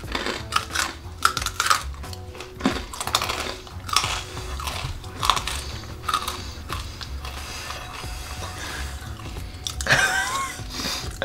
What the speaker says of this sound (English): That is crispy. Hope it's supposed to be crispy. Yeah, a crispy rice cracker.